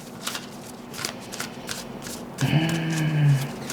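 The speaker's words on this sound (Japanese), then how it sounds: "あとちょっともう一枚ね、オラクルカードを引いてみたいと思います" Oracle cards shuffled by hand during a tarot and astrology reading, a steady riffling patter of card edges close by, then a louder rustling slide of the deck toward the end, with no voices.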